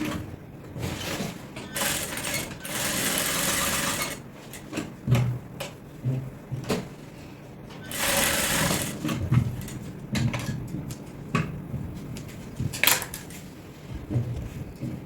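A sewing machine stitches the elastic band casing of Ankara print palazzo pants in short bursts of rapid whirring, broken by pauses filled with fabric handling, clicks and small knocks, close by.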